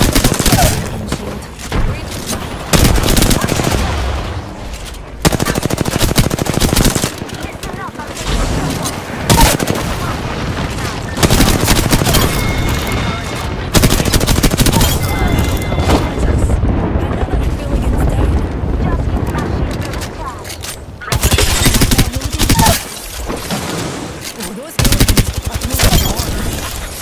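Rapid automatic gunfire in the Apex Legends video game, with loud sustained bursts and volleys that stop and restart, up close and dense throughout.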